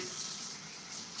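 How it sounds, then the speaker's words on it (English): Tap water runs steadily into a sink while hands are washed, a brief continuous close hiss with no breaks. "Wash my hands again."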